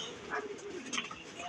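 Racing pigeon cooing softly at a club loft in Rosales, Pangasinan, a few low murmuring coos set amid steady outdoor background noise, with no talk over it.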